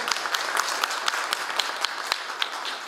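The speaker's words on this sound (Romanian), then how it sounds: "Vă rugăm să le dăm încă o dată o serie de aplauze" An audience at an award ceremony for entrepreneurs of the year in Soroca district applauds, a moderate wash of many hands with sharper individual claps popping out at irregular moments throughout.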